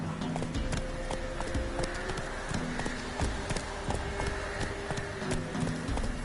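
Roach, the horse in The Witcher 3, gallops with quick, regular hoofbeats that stay loud and close throughout, layered over a steady background rumble.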